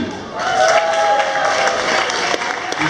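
Loud crowd applause and cheering for a dance team at a dance school open day battle event, continuous close clapping with whoops throughout, a faint tone running beneath it.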